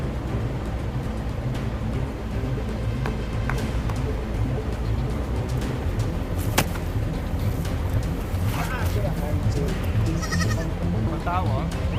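Goats bleat in a farm setting, heard as a few short cries over continuous background noise, with people talking throughout.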